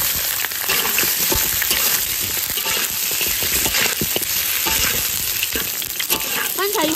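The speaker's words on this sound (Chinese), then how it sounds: "把焯好水的羊肉倒进来炒" Blanched lamb pieces stir-fry in hot oil in a wok, giving a loud, continuous sizzle and crackle with steady scraping and tossing throughout, close and dense.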